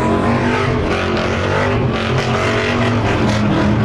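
A loud Dodge Hellcat engine roars and revs continuously up close while drifting, with a harsh, gritty drone and a hint of tires scraping.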